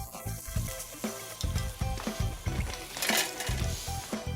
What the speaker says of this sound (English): We lay it out like this on the grill